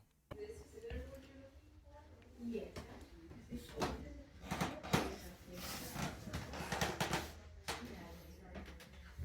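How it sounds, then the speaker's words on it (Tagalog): Wooden creaks and knocks from footsteps on stairs, irregular and moderately close, with faint background noise and no voices. "napansin ko na tumutunog yung kahoy na inaapakan ko"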